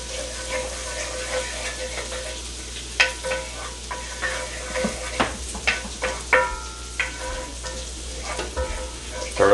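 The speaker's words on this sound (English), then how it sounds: "Stir that garlic around" Garlic sizzles in butter in a pan while it is stirred, a steady frying hiss broken by scraping and clinking utensil strokes.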